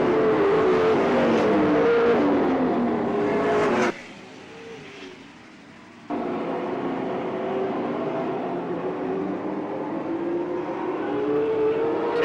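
Race cars roaring around an oval track coming out of turn four, a steady loud engine drone from the pack that briefly drops away and then swells back as more cars pass.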